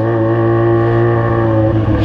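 Yamaha XJ6 motorcycle engine, loud and close, a steady rich roar held at high revs for about two seconds with a slight dip near the end, no voices over it.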